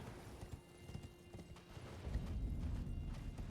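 Steady clip-clop of a horse's hooves in Elden Ring picks up and grows louder halfway through, a galloping rhythm over a low background hum.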